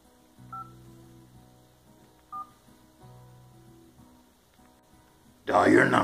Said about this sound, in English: Dial your number.